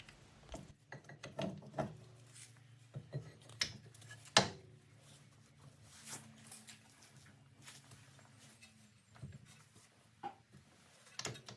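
A ratchet tightens the brake caliper bolts on an Audi A6 C7 during a front brake disc replacement, giving irregular bursts of sharp clicking pawl strokes with short pauses, close and moderately loud, with no talking.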